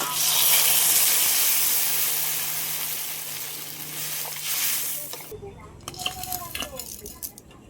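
Water poured into a pan of spiced potatoes frying for a fish and beetroot curry, setting off a loud, steady sizzling hiss that cuts off sharply, then light clatter of the pan and a voice speaking.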